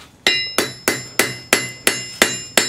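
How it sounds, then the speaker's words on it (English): Hammer blows forge welding a steel fire poker, seven evenly spaced ringing metallic strikes, each sharp and loud with a short decaying ring, no talk. "There's first part of your forge weld here."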